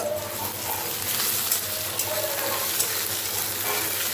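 Ingredients for khichuri frying in a pan, a continuous even sizzle with occasional soft stirring scrapes throughout.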